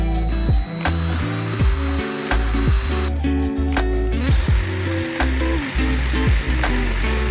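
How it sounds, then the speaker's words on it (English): A power drill whirs in repeated bursts, stepping up bit sizes to drill mounting holes in an Indian Challenger motorcycle saddlebag, motor pitch rising and falling as it bites and releases, close and loud with mechanical clicking between runs. "I marked the location so I could drill the holes"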